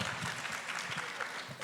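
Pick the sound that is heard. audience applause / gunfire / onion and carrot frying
audience applause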